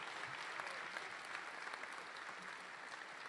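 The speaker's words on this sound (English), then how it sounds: "let's give a huge round of applause for those accolades to date." Audience applause at a collegiate honor society chapter awards gathering: a dense, steady wash of many hands clapping at once, sustained at an even level throughout with no voices on top.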